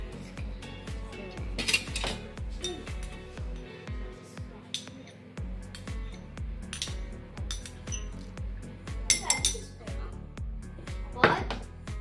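Children in a school kitchen mixing with a spoon in a bowl, heard as busy clinks and scrapes of metal against crockery, with dishes knocking and rattling nearby and the occasional louder clatter.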